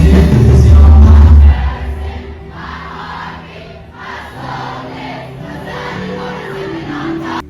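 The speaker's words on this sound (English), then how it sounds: "I cannot describe to you guys how loud the crowd sang" A concert crowd roars and sings along loudly, a dense wall of massed voices that surges at first and then carries on steadily.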